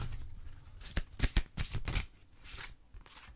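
Oracle cards being shuffled for a card reading, a brief run of soft riffling and flicking bursts, close and fairly quiet, with no talking over it.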